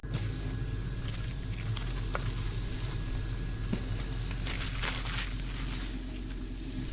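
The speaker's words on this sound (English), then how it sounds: "You can hear a nice sizzle." A steady, soft sizzle hisses continuously as butter burger patties fry on a hot griddle, with faint crackles and no voices.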